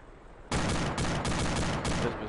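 Sustained bursts of gunfire in the military shooter Arma 2, a loud fusillade of rapid overlapping shots that starts abruptly and continues without pause for about two seconds.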